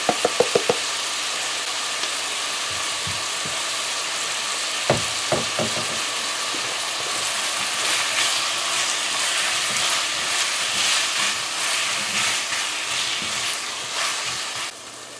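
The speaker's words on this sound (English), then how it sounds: "And now we're going to add our potatoes." Potatoes fry and sizzle steadily in a pan, a loud continuous hiss with occasional stirring knocks and clicks, no voices over it.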